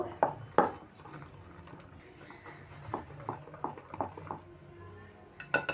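Pitha batter being stirred with salt and baking powder in a bowl, giving soft scraping and light clinks of a spoon against the bowl, with a few sharper taps near the start and end.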